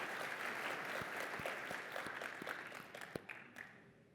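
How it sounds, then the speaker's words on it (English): An audience at a tech conference keynote gives a round of applause, a wash of claps with a few sharper individual hits, fading toward the end. "Let's give that team a round of applause."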